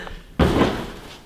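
A single heavy thud from someone jumping into a foam pit lands abruptly and loud, followed by a short rumbling decay.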